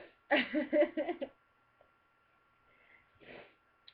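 Someone blows their nose in one short, sputtering burst, followed by quiet and then a faint sniff.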